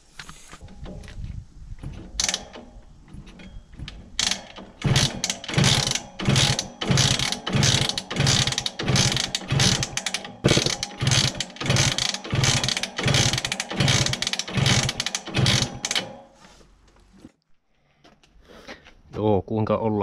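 Erikois-S 50 drag racing moped being cranked and failing to start, a rapid run of loud mechanical clattering pulses for about twelve seconds that stops, then a brief faint rattle.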